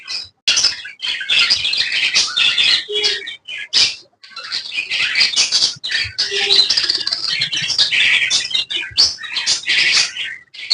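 Many small farm-kept cage birds chirping and squawking at once, a dense, loud, continuous chatter of sharp high calls close by.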